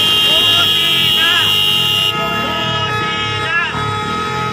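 Car horns honk repeatedly at a street rally, with sharp upward toots standing out over loud continuous crowd noise and shouting voices close by.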